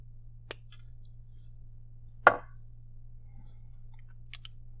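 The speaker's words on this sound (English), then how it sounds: "And we can now trim this wire off over here on the side." Wire snipped off beside an amethyst pendant during wire wrapping: two or three sharp, close clicks of cutters, separated by quiet pauses, over a low steady hum.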